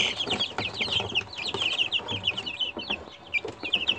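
Busy flock of 18-day-old chicks clucking and peeping continuously, many small birds calling over each other at close range, with some rustling underneath.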